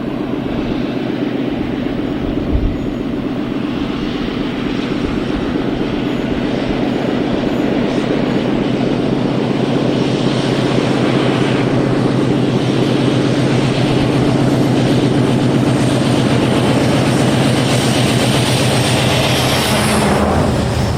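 British Rail Class 56 diesel locomotive 56040 hauls a loaded limestone train, a loud, steady engine roar with wagons rumbling past close by throughout.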